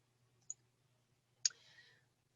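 Two sharp, close mouse clicks about a second apart, the second followed by a brief faint rustle, over a quiet background hum.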